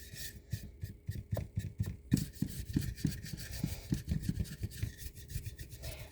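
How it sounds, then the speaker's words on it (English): A paintbrush dry-brushing paint onto a thrift-store item: a series of rhythmic scratchy strokes, close and moderately loud, repeating quickly with no talking. "And then I can dry brush to bring out the"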